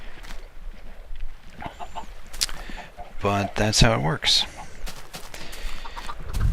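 Minecraft chickens cluck and squawk in short bursts amid soft game ambience, with someone talking over them.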